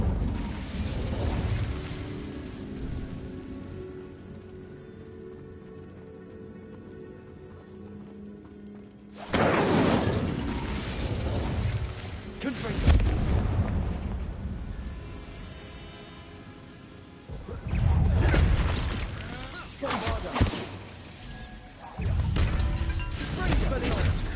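A burst of Incendio fire-spell blasts in the video game Hogwarts Legacy, with loud whooshing bursts near 9, 13 and 18 seconds over busy game sound and music, and a quieter stretch before them.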